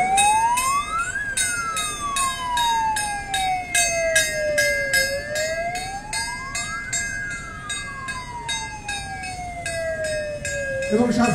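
West Bengal Fire and Emergency Services fire engine siren wailing in slow rising and falling sweeps during a Republic Day parade, loud and close, with a rapid repeating electronic tone layered over it.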